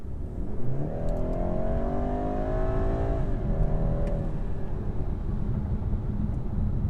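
A 2021 BMW 430 accelerates hard from a standstill toward 60 mph, its engine note climbing steadily in pitch with a brief dip at a gear change before rising again, loud and continuous under road noise.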